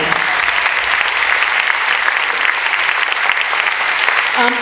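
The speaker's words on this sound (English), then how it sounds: "Let's give a round of applause to all of our beautiful models." An audience at a pink-themed hospital fashion show bursts into loud, sustained applause for the models, dense clapping from a crowd that stays even throughout.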